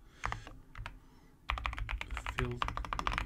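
Brisk typing of Vim configuration on a computer keyboard, close clicky keystrokes in quick irregular runs that grow denser after a brief lull, with a voice talking faintly underneath.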